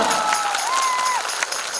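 A school festival audience at Yongin Samgye High School claps and cheers, a brief, dense burst of applause with a thin whistle-like tone running through it.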